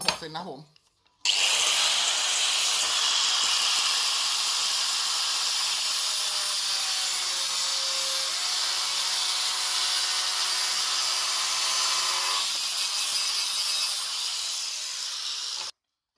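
A power tool whines loudly and steadily as it cuts through steel threaded rod, a harsh continuous grinding that runs for several seconds before cutting off.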